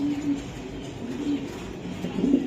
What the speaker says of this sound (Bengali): এটা ডাইরেক্ট ইম্পোর্টেড কবুতর